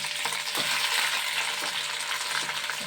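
Fresh gongura leaves sizzle in a ladleful of hot oil in a pan, a steady crackling hiss close up with soft stirring scrapes recurring every second or so, and no talking.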